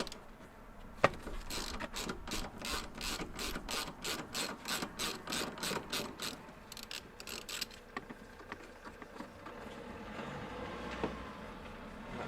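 A ratchet undoes a T50 Torx seat belt bolt beside a campervan driver's seat. Rapid, regular clicking repeats for several seconds close by, then slows to sparse clicks and light clinks with no talking.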